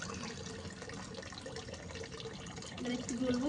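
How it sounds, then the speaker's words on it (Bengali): Water trickles and splashes faintly as it is poured over a shampooed cat during a bath, a steady soft wash with a person talking over it. "দেখো শ্যাম্পুটা মাখিয়েছিলাম, এইবারে জল দিচ্ছি"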